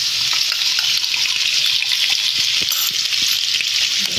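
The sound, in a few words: ginger garlic paste and cumin sizzling in hot oil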